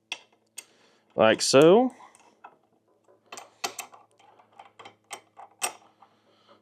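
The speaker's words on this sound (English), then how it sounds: "And then you just spin your bolts down" Retention bolts spin down into a machined housing with scattered small metallic ticks and clicks, fairly close and quiet, while someone speaks briefly.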